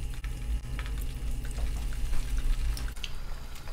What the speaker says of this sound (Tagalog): Mantika po, kung mainit na po, prito na natin.